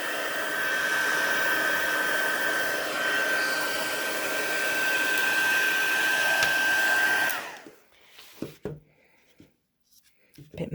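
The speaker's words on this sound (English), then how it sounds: "I think my heat tool is in the way" A heat tool blows hot air over a handmade Christmas card, a steady close whooshing roar with a thin whine that runs for several seconds and then cuts off, followed by light handling sounds.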